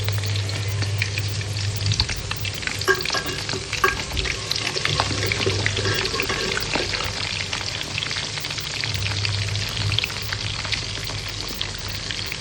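Masala-coated sardines fry in a pan, a steady close sizzle with crackling oil spatter throughout, no voices.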